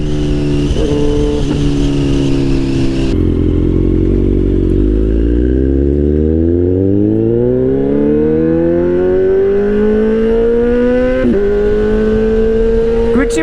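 A Kawasaki Z800 superbike engine revs hard and climbs through the gears, its loud roaring pitch rising steadily and dipping briefly at each quick-shifted change, close to the microphone.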